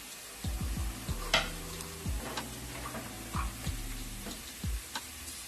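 Whole spices such as cinnamon stick pieces and a bay leaf sizzle softly in a hot pan, with intermittent clicks and scraping stirs, close and quiet, no voices.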